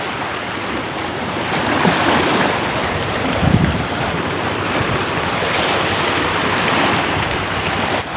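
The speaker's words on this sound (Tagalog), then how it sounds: "gawa nga ng malalaki yung alon" Large ocean waves breaking on a rocky shore, a loud, continuous roar of surf with wind buffeting the microphone and no speech.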